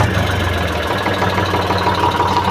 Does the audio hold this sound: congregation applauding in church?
no